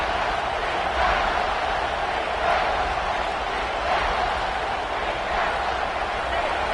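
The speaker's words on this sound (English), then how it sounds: "the crowd really making some noise now" A large stadium crowd at an Iowa versus Alabama football game roars continuously in the distance, a dense wash of cheering and shouting that swells slightly in waves.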